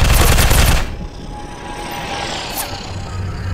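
Loud burst of rapid automatic fire in FPS Commando Strike Mission, lasting under a second before dropping to a steady hum with a faint later shot.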